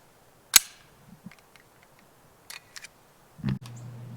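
One sharp, loud shot from a Wilson Combat ULC Sentinel 9mm pistol rings out, followed by faint mechanical clicks of handling and a dull thud near the end.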